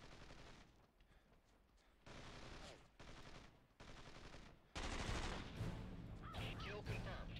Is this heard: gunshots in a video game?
yes